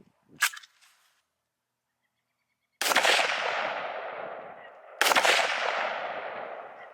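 Two loud, sharp rifle shots fired while zeroing a holographic sight, each with a long echoing decay, spaced about two seconds apart, after a short thump near the start.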